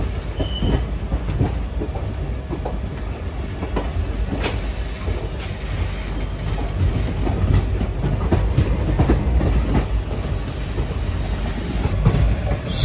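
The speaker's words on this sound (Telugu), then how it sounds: "అటు సైడ్ ప్యారలల్ రన్లో ఇంకొక ట్రైన్ కూడా వస్తుంది, ఏంటో చూద్దాం మరి. అది ప్యాసింజర్ ట్రైను." A passenger train runs on a parallel track near Shoranur Junction in Kerala, a steady loud rumble of wheels and rattling carriages with occasional squeals, heard throughout from a moving express train.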